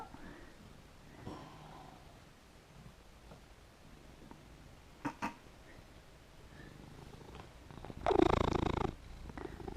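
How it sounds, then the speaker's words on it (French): A cat purrs softly and steadily up close, with faint rustling and a brief loud scraping rub near the end. "Si vous voulez juste qu'on entende ton ronronnement"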